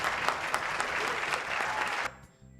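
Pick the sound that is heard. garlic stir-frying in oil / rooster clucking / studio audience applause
studio audience applause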